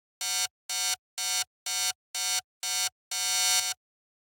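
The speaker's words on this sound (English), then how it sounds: "The first sound that we have here is this little operator stab" Seven bright, buzzy synth stabs from an Operator synthesizer repeat in an even rhythm, the last held slightly longer, loud and clean with silence between, in a tech house style.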